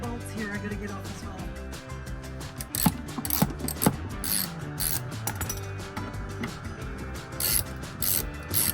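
Ratchet wrench clicking as bolts are removed inside a Toyota Coaster bus during a strip-down, steady mechanical clicks running throughout with a few louder knocks midway, fairly close.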